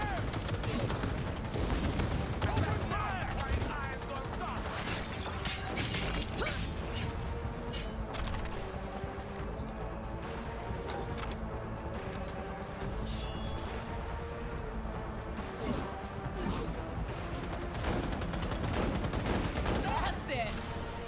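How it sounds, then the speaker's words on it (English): Rapid bursts of gunfire from the Cyberpunk 2077 game fill the whole stretch, dense and continuous with sharp cracks layered over background music and game noise. "Who's shooting me?"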